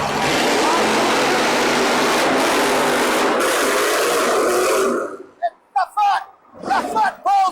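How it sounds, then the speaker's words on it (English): Monster trucks, Bigfoot among them and one running a 460 cubic-inch engine, race head-to-head for a championship in Roanoke, Virginia. Engine roar blends with crowd noise in a loud, dense wash for five seconds, then drops away as an announcer speaks. "The two fastest trucks on the premises go head-to-head for the championship here in Roanoke, Virginia"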